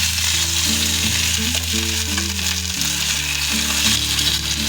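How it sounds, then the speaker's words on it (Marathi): Fish sizzles in a hot pan as its second side crisps, a constant hiss running under tonal background music from start to end. "छान अशी आपली मच्छी फ्राय झालेली आहे तर आता दुसऱ्याही बाजूने आपण अशीच फ्राय करून घेणार आहोत"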